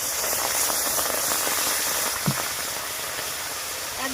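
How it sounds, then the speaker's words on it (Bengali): Water pours into a kadai on the stove as a coconut and sugar filling is started, making a steady, even hiss with a faint splash partway through. "জল কড়াইতে দিয়ে দিচ্ছি।"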